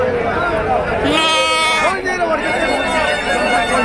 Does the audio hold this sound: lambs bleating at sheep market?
yes